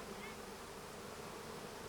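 Bees buzz steadily around a hive, a continuous faint hum with no pauses and no voices.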